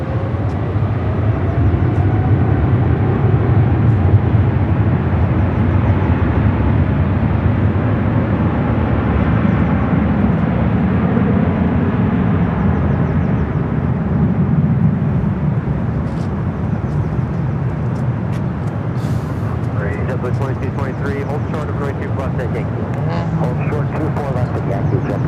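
An Emirates airliner flies near LAX, its engines giving a broad, steady jet roar that slowly fades over about twenty-five seconds. People talk throughout on top of the noise.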